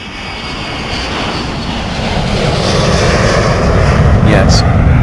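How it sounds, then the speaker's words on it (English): An airplane's engine roar building steadily from moderate to loud over a few seconds, a broad rushing drone that grows closer and fuller, with brief higher tones near the end. "Yes, this is airplane."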